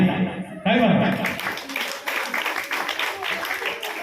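An audience at an Ambedkar Jayanti gathering breaks into scattered clapping that carries on as a rough, uneven patter after a brief spoken word or laugh at the start.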